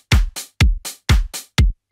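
Hi-hat sample struck in a steady rhythm of paired bright hits, four groups over two seconds, crisp and loud with short decays and no talk.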